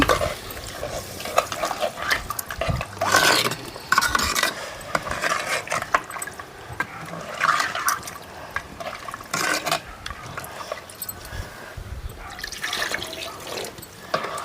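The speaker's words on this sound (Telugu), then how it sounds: "ఇప్పుడు తగిన నీళ్ళు అయితే పోసుకుందామండి" Water is poured into a pot of mutton curry in several splashing, gurgling bursts, close up with no talking.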